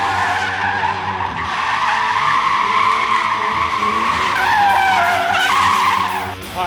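Tires squeal loudly and continuously on a stock BMW E36 during a late-night drive, a close, sustained screech that rises and wavers in pitch over engine noise, with no talking.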